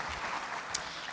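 Scattered applause from the audience at an international tourism investment forum, a soft, distant patter of clapping, fairly faint, with one brief sharper clap standing out near the middle.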